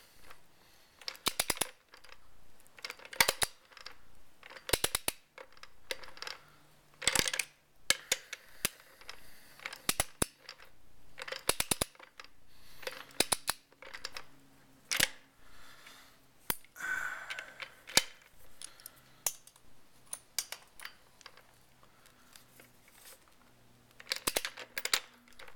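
Ratchet wrench tightening a bolt while installing first gear, giving a long run of sharp, close mechanical clicks in irregular bursts, with no talking.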